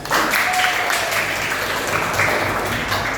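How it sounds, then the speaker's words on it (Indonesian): A classroom of students applauding steadily and fairly loudly for about three seconds, a dense, even patter of many hands with no voices standing out. "tepuk tangan dulu kita."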